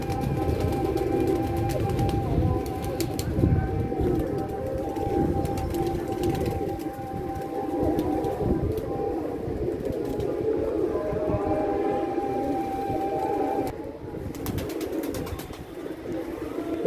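Pigeons kept in a large cage coo steadily for the whole stretch, joined by rustling and a constant low outdoor rumble, with no talking.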